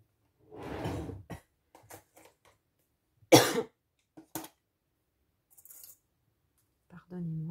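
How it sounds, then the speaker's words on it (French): A woman coughing several times, a couple of loud close coughs separated by quiet gaps and small handling clicks, with a brief bit of voice near the end. "Pardonnez-moi, je tousse encore"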